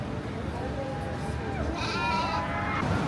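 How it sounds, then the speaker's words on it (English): Baby goats bleating at a farm-style petting area with bunnies and a pig nearby, several overlapping cries rising near the end over steady crowd murmur and a voice talking. "Hey, baby goats!"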